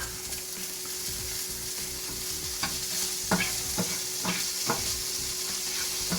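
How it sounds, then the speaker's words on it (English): Pork searing in a pan over high heat, a steady sizzle with a few sharp scrapes and clacks of a utensil, close and fairly quiet. "it's pretty high heat right now. Just put a little sear on that."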